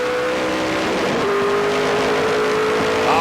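On-board race car engine of a stock car series race, revving hard and climbing up through the gears with a falling pitch at each shift, loud and continuous from up close.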